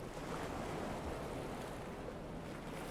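Ocean waves in the video game Stormworks surge and wash as a continuous, even roar of surf and wind around a rocking boat out at sea, with no voices.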